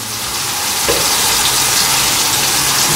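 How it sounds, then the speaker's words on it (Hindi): Red chili powder and turmeric sizzle in hot oil in a pan for a mutton biryani, a steady loud frying hiss with a brief stir-like scrape near the start and no voices. "अब मैं मसाले को अच्छी तरह भून लूँगी।"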